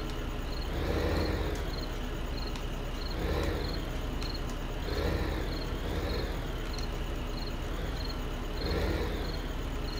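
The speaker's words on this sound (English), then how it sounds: "Hear the crickets." Steady, pulsing cricket chirps in the video game Farming Simulator 2015 repeat in regular bursts over a constant low ambient rumble, with no voices.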